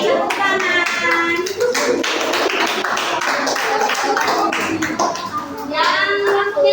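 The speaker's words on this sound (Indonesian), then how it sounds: "Oke, tepuk tangan." Children in a primary school classroom clapping together, a rhythmic patter of hand claps mixed with young voices talking and calling out throughout.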